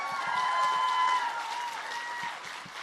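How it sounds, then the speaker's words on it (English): Commencement audience applauding steadily at a women's college graduation ceremony, a dense wash of clapping with a faint tone running beneath it. "A round of applause for them,"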